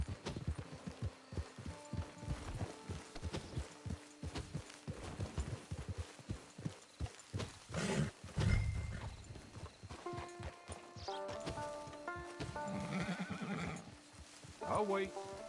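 Hooves clip-clop in a steady walking rhythm, with a horse whinnying partway through and other low sounds mixed in.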